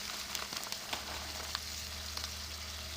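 Taco meat simmering in a pan with Colby and Monterey Jack cheese, a steady broadband sizzle and bubbling with occasional small pops and clicks, close and moderately loud, with no talk.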